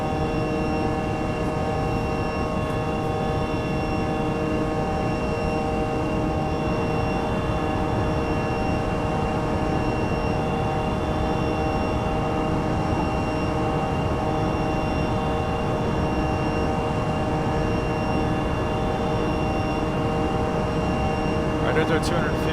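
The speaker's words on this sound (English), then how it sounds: "those Neo engines sound really, really good" Airbus A319neo jet engines running steadily from inside the aircraft, a dense continuous roar with sustained whining tones, loud and unchanging throughout, with talk over it.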